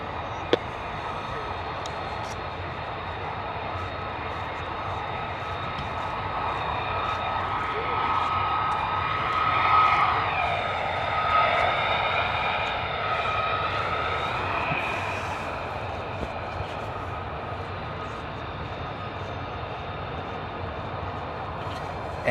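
US Air Force F-35 jets taxi out at RAF Lakenheath, a sustained distant engine whine and rumble that rises a little in the middle and then eases back, steady and fairly subdued throughout.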